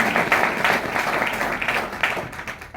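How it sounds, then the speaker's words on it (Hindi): A crowd at a business meeting applauds its distributors with dense, steady clapping that stays loud and continuous for the whole stretch, with no voices heard. "उनके लिए भी एक बार जोरदार तालियां दोस्तों कहना चाहूंगा।"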